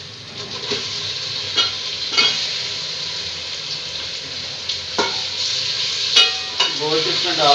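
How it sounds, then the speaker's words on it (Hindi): Meat sizzles and fries in a pot with golden browned onions for a chicken dish, a steady close crackle broken by repeated scraping stirs and clinks of a spoon against the metal. "गोश्त इसमें डाल के अच्छी तरह से भून लेना है।"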